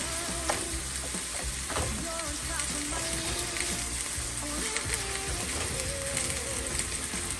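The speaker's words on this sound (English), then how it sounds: "It is the best tool ever for chopping ground meat." Ground meat sizzles and crackles steadily in a hot pan while a meat chopper breaks it apart, with soft scraping and tapping mixed into the frying noise.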